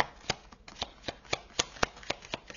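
Tarot cards are handled close by during a reading, giving a quick, regular run of sharp papery flicks and snaps about every quarter second, with no voices.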